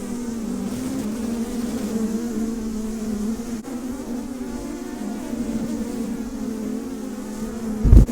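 A swarm of agitated honey bees buzzes steadily around an opened hive, with a dense, continuous drone hanging close by at an even loudness throughout, and a brief bump of noise at the very end.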